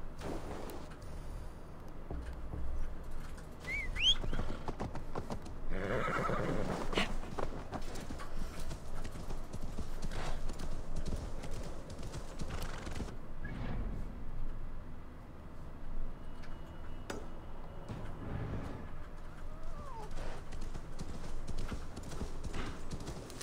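Horse hooves clip-clop steadily at a walking pace, with a brief whinny, from the video game Assassin's Creed Valhalla, with faint background effects.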